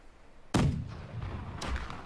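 Ship cannons firing a starboard broadside in the naval game Blackwake: a sudden heavy boom followed by rumbling echoes and a second, softer blast just over a second later.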